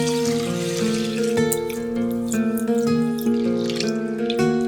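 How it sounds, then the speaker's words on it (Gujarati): Toor and masoor dal are washed under running water, a close, steady splash and trickle with bright ringing tones, continuous and alone with no talk. "અડધો કપ તુવેરની દાળ, અડધો કપ મસૂરની દાળ, એને 2 પાણીથી સરસ ધોઈ કાઢીએ"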